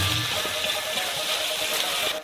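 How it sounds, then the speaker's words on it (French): Water is poured into a wok, making a steady, moderate rush and splash that lasts a couple of seconds with no speech. "Et versez le tout avec de l'eau."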